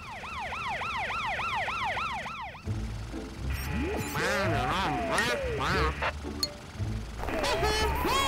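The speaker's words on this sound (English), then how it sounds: "Follow the sound of the siren, and you'll find the thief." A cartoon siren wails in regular rising and falling sweeps, then cuts out and gives way to a busy mix of swooping cartoon effects and quacking, before the siren returns near the end, loud and close.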